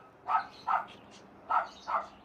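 A dog barks four times in two pairs of sharp, moderately near barks, with a short pause between the pairs.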